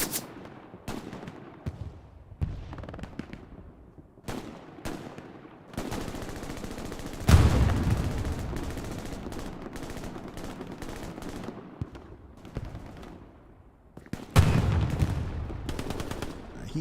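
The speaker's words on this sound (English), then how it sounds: "Hearing those slugs pop out of that shotgun." Shotgun slugs fired in Hell Let Loose, a World War II shooter, come as sharp loud blasts scattered across the stretch, several standing out with heavy low booms amid other distant gunfire.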